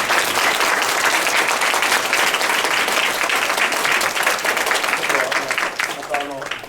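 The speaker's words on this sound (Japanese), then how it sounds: "最後にロアンさんに盛大な拍手を。" A seminar audience gives sustained, dense applause at the close of a discussion, loud and even throughout before thinning out, with a voice emerging faintly at the very end.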